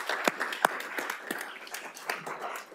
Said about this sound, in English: Round of applause for all these candidates